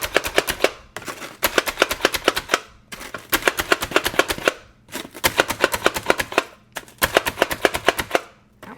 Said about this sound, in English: I'm actually just going to stick it down into my bowl and just kind of mince